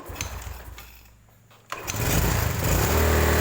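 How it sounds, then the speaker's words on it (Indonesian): A Yamaha motorcycle engine, fitted with an aftermarket voltage regulator, fires up after a brief lull and runs loud and close with a dense, steady rumbling roar that fills the rest of the clip. "Motornya ternyata masih hidup, bisa hidup."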